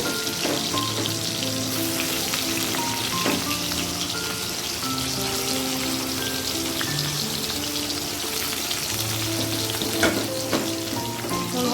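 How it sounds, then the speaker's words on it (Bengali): Potatoes frying in hot oil, a dense steady crackling sizzle with a few brief spatters and stirring sounds, while faint background music runs underneath; no one talks. "তেল গরম হয়ে গেছে আমি এখন আলু ভাজি বসিয়ে দিয়েছি"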